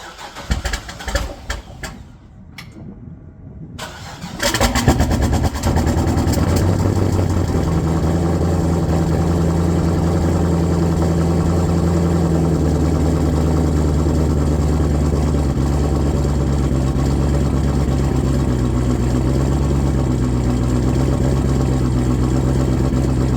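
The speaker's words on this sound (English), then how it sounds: "I think this guy's doing a cold start." A twin-turbo Corvette Z06 V8 is cold started. Clicks come first, then the engine catches with a loud surge and settles into a steady, rumbling high idle that continues close and loud to the end.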